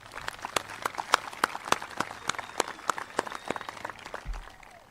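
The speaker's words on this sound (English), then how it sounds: "Let's give them a round of applause as well." A high school graduation audience applauds with sparse, distinct claps, a moderate scattered patter that holds steady before thinning out.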